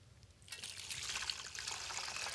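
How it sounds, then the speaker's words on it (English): Brine being poured over a 12-pound turkey: after a quiet start, a steady stream of liquid splashes and trickles continuously, close and fairly soft, with no talking. "Pour the brine over the turkey."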